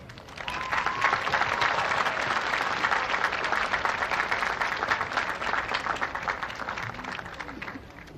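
Audience at a 2001 PCC college commencement ceremony breaking into sustained applause, a dense, steady roar of clapping that starts abruptly and holds for several seconds before tapering slightly.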